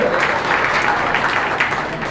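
Audience applause for exhibitors at a county beef show, a steady wash of many hands clapping together throughout, fairly close and even in loudness, with a faint voice briefly audible underneath.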